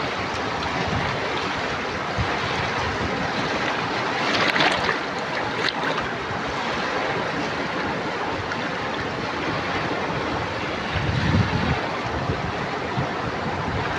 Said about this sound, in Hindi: कितना पानी आ रहा है, देख रहे हो छलांगे मार रहा है पानी।